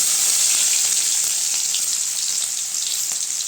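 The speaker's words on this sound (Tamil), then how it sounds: "வெங்காயம் சேர்த்துக்கலாங்க" Chopped onions fry in hot oil in a kadai for brinjal poriyal, giving a continuous, even crackling hiss that holds steady for a few seconds with no voices.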